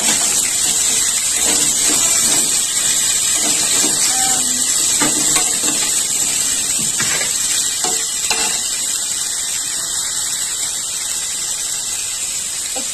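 Cut mango pieces sizzling in hot oil with dried red chillies in a pan, a loud continuous hiss with scattered pops and crackles, no talking.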